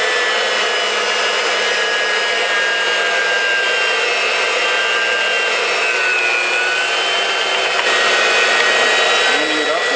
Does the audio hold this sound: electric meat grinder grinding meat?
yes